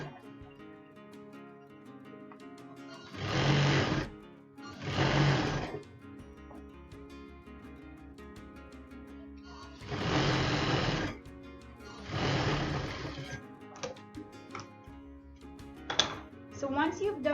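A sewing machine runs a flat stitch on a non-woven fabric bag, whirring in four loud bursts of about one to two seconds each, separated by quiet pauses with faint handling sounds.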